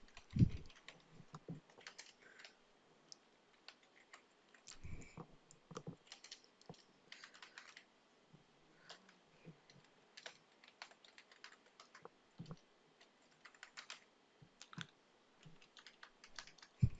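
Fingers tapping away on a computer keyboard while filling in personal details on an admission form, a quiet, irregular run of keystrokes and clicks with short pauses between bursts.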